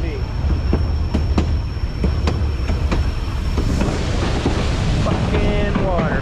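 The White Pass train rolls along its rails from the back car, with a steady loud rumble, rhythmic wheel clacks over rail joints, a high whine, and squealing wheels near the end; people talk over it.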